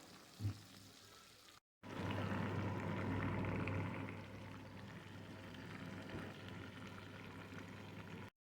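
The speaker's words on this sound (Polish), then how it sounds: "Rolatki smażymy na rozgrzanym oleju na średnim ogniu." Breaded pork rolls stuffed with minced meat fry in hot oil over medium heat, giving a steady, close sizzle with crackling, loudest early on and then settling into a continuous hiss.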